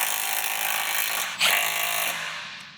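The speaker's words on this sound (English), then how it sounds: "Tighten up these bolts." Fast mechanical whirring of a ratchet or power tool tightening bolts on a turbocharged Jeep Wrangler, steady and close for under three seconds with a brief change partway through.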